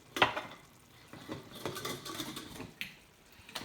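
Ground beef browning in a pan for Korean beef bowls, heard as faint, scattered scrapes and clinks of a utensil stirring the meat, with soft sizzling between strokes.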